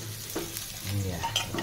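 Bottle gourd pieces and boiled peas drop into hot oil in a pressure cooker, giving a soft sizzle with brief stirring scrapes and clinks, quiet and close, with no talk.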